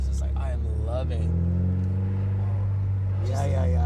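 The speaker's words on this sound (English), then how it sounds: "it's like that Borla exhaust" A 1986 Porsche 944 with a Borla exhaust drives along, its engine a steady low drone with a brief rise in revs, while people talk over it throughout.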